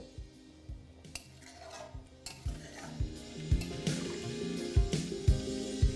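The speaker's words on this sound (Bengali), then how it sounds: "তারপর একবার ভালো করে মিশিয়ে এটাকে ফুটতে দেবো" Rohu fish curry being stirred in a pan over low to medium flame, a spoon knocking and scraping the metal in a loose rhythm with light liquid sloshing, close and fairly clear.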